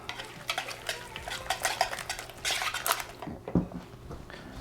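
A spoon scrapes and clinks against a bowl as potato salad with finely grated hard-boiled egg is mixed, a few close soft strokes and then a brief louder tap near the end.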